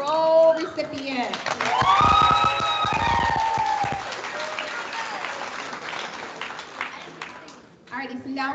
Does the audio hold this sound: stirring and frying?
no